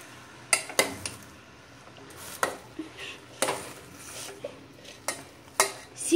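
Okra and onions are stirred in a frying pan with a spoon, producing irregular scraping strokes and clinks against the pan over a faint sizzle, close and alone.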